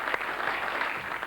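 A short burst of studio audience applause greets a correct answer from a contestant on a 1999 television quiz show, a brief, soft, even wash of clapping with no talk over it.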